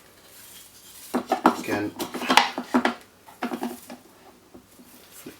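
WoodRat woodworking jig being rotated around while cutting finger joints, giving a run of close metallic clanks and rattles in uneven bursts, with a voice speaking briefly.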